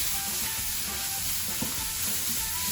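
Ginger, garlic and masala fry in a pan for a chicken and mushroom kebab curry, giving off a dense, steady sizzle up close with faint stirring scrapes and no talk.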